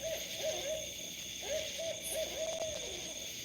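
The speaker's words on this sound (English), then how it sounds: "You hear that owl right there?" A small owl hoots from the bushes in a repeated run of short, even calls with a steady rhythm, faint against a constant background hiss and whine of insects.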